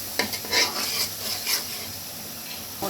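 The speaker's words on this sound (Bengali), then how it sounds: "দুইটা মশলাই আমি কষিয়ে নিচ্ছি শোল মাছের দুপাজির জন্য আর লোনা ইলিশের মাথা দিয়ে পুঁই শাকের জন্য" Spice paste for shol fish dopiaza and salted hilsa head with greens is fried in a pan, a soft continuous sizzle broken by a few quick spoon scrapes and stirs.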